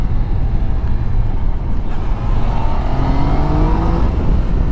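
2019 Yamaha Niken three-wheeled motorcycle accelerating, its engine note climbing steadily under heavy wind rush, close and loud throughout.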